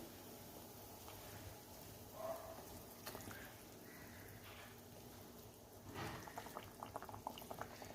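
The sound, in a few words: Bengali tangra fish curry gravy boiling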